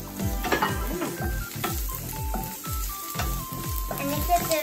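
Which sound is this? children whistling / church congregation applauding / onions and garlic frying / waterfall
onions and garlic frying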